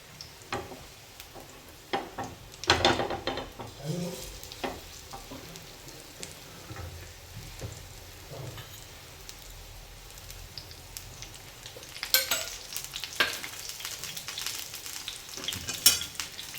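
A thin batter-coated sandwich sizzles on a hot tawa griddle, a steady quiet fry broken by scraping and clinks as it is turned over, with louder sputtering bursts.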